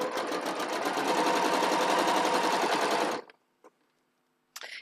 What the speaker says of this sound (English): And you can pin if you like, but I'm just going to sew.